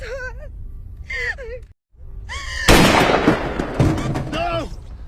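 Gunshots ring out in a film scene where Jane shoots Russell: a loud, dense burst of blasts crashes in after a tense pause, following earlier strained voices and gasps, and a voice cries out over the tail.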